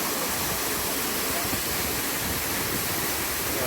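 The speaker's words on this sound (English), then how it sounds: "if you can hear me over the waterfall" A waterfall in the northern Thailand jungle roars steadily and loudly, a dense continuous rush of falling water filling the whole clip without letup, with no voices rising above it.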